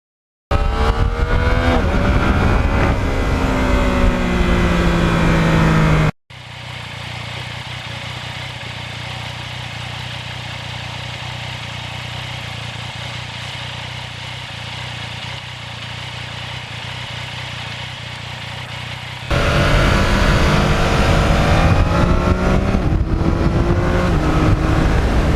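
Yamaha MT-09 motorcycles (2020) ride hard, loud engines revving and shifting up close at start and end, with a steadier muffled engine drone and wind through the middle stretch; no talking.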